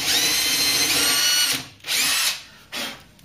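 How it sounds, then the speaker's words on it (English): A power drill bores out an old rivet on a Ford Cortina Mk3 under restoration, running loud and close in one long whine, then stopping and restarting in two shorter bursts. "One there needs drilling out,"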